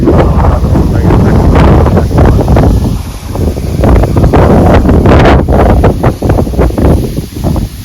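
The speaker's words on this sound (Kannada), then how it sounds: "ಗಾಳಿ ಭಾಳ ಐತಿ" Strong wind buffets the microphone in a loud, continuous roar, swelling and easing in gusts throughout.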